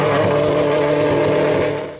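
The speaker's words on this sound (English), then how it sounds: "when that V12 engine roars to life" A Pagani Huayra R's V12 engine roars loud and close, a steady, sustained throaty drone that holds level before easing slightly at the very end, with no talk.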